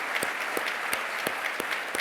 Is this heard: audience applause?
yes